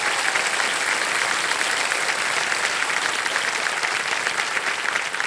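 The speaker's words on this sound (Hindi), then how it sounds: "तालियों के साथ हम इनका स्वागत करते हैं।" A studio audience on the KBC quiz show claps to welcome a contestant's mother, a dense, steady wash of applause that stays loud and even for the whole stretch with no voices over it.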